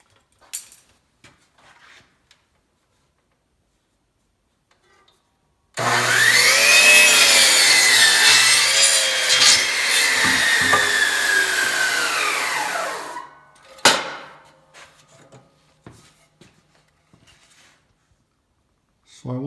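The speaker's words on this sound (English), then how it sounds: "I'm going to take this power miter box and just cut it square." A power miter saw spins up and cuts a 1x6 oak board square, a loud whining roar lasting several seconds that dips as the blade bites and then winds down, with a few clattering knocks afterward.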